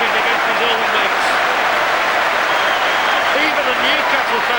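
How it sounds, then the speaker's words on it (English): Football crowd at a Manchester United match against Newcastle applauding a hat-trick goal, a loud, dense wash of clapping and cheering that fills the whole stretch, with a commentator's voice faintly riding over the roar. "Even the Newcastle fans are applauding that one."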